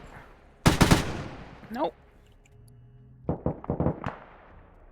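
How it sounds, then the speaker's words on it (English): Gunfire in the military video game Arma 3, a rapid burst of shots followed by a second, choppier string of reports a few seconds later, with a short spoken word between them. "And we still have some shots going back and forth right there."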